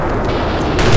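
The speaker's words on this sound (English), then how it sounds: "Explosions!" Dense, loud burst of rapid gunfire and booming blasts in Eternal Darkness, crackling continuously and swelling at the end.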